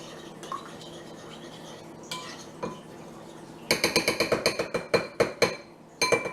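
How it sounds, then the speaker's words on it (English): Sour cream and milk stirred together in a bowl: after a quieter start, a spoon knocks against the bowl in a quick, steady run of close, bright clinks. "Just get the sour cream and the milk stirred in together."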